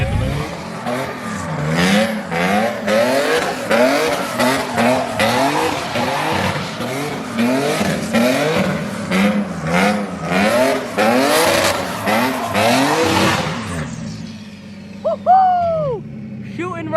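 A 600+ hp Nissan 350Z accelerates hard under boost, its engine roaring loud and close through rapid rising and falling revs and gear changes, then cutting off, with tire squeal and excited shouts near the end.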